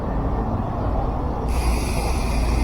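Bicycle freewheel hub ratchet clicking steadily while the bike is ridden, a dense, continuous buzzing rattle that stays close and even throughout, growing slightly brighter partway through.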